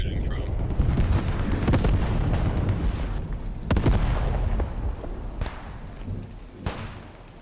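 A dense battlefield din from the WW2 game Post Scriptum, with scattered sharp gun cracks and heavy booming blasts over a constant rumbling background. Several distinct loud hits punch through at irregular intervals.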